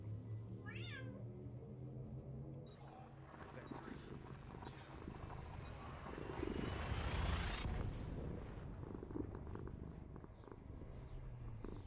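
A domestic cat meows and purrs close by, with a low continuous purr under a short spoken word and a rising whooshing hum building toward the middle.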